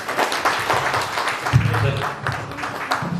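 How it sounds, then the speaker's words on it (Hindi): A crowd claps in a steady wash of applause at an event in Nagpur, Maharashtra, while a voice speaks loudly over it. "जोरदार ताली होनी चाहिए जितेंद्र सर के लिए"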